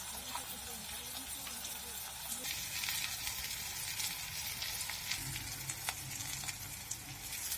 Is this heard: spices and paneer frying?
yes